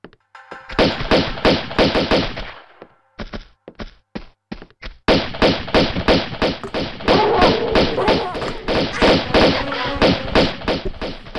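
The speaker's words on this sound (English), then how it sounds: "There's still one more guy shooting me!" Repeated enemy gunshots in Tomb Raider 2's Opera House level, sharp loud thuds firing in rapid bursts, pausing briefly, then resuming in a dense, steady volley.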